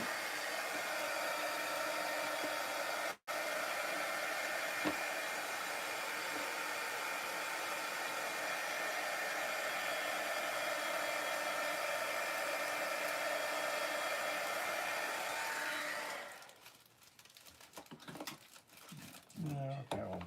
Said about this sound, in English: I'm just going to hit mine with a little bit of heat here to speed up.